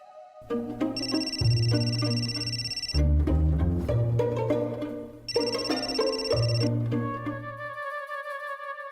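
A phone ringtone plays for several seconds, a repeating electronic melody with a bright ringing tone, loud and close, no voices.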